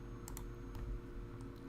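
Faint keyboard typing coming through a voice chat during a late-night Genshin Impact livestream, a few scattered clicks over a steady background hum.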